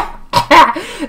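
A short pair of sharp coughs from a person, loud and close, followed by a brief voiced trailing sound.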